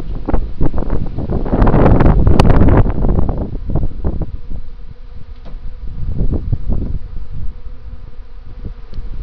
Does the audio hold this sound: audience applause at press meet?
no